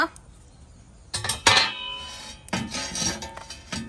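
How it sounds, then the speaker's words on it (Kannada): A tawa pan set on a kitchen stove for frying fish, giving a few sharp metallic clanks and clinks, close and fairly loud, over a quiet background. "ಕಾವಲಿ ಇಟ್ಟಾಯಿತು"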